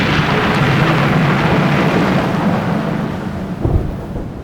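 A thunderstorm over a lake, with loud continuous roaring wind and rain and a deep rumble of thunder, a heavier thump near the end, no voices.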